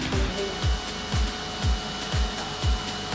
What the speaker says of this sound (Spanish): Lo que voy a estar haciendo ahora es pasarle un cordón de soldadura por las canaletas que hice para poder plegar este